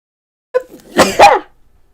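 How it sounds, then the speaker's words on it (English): A single close, loud sneeze: a short sharp intake followed by an explosive burst, then quiet. "And I'm gonna sneeze."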